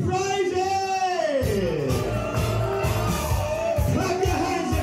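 A loud crowd at a tech conference bingo night cheers and whoops for the bingo callers, while a presenter's amplified voice carries over the noise.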